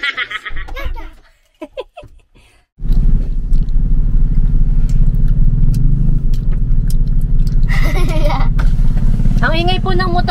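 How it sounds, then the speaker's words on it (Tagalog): A motorcycle engine kicks in abruptly and idles loudly and close with a deep, steady throb, while people talk and laugh before it starts and again over its rumble near the end. "Ang ingay po ng motor niya."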